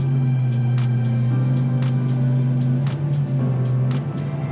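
A Mercury V8 300 hp Verado outboard pushes a Viggo C8 aluminium powerboat, giving a loud, steady engine drone with strong low harmonics, rising and falling slightly as the boat runs, with wind and water rush throughout.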